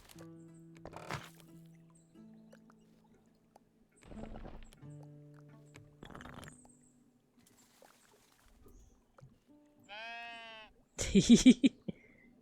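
Sheep in the cozy building game Tiny Glade bleat in a few short, clear calls spaced among soft game sounds, with one louder, wavering bleat near the end and no one speaking.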